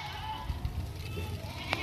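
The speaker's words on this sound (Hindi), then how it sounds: "नंबर 1 पे जो बकरी आ रही है" A goat at a Thursday livestock market gives short bleats amid a busy crowd, with low rumbling background noise and a brief sharper call near the end.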